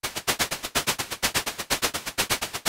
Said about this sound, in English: we get this shakery sound